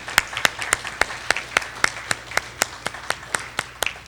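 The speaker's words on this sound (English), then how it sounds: "So let's give him a round of applause." Sparse, steady claps ring out in an even rhythm, about three or four sharp hand strikes per second, as a round of applause for a debate finals participant.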